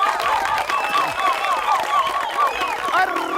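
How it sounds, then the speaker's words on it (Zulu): A live concert audience applauds and cheers in a dense, continuous wash of clapping that stays loud and steady throughout, with voices scattered through the crowd. "Ngicela uphinde uyishayele elikhulu ihlombe one more time."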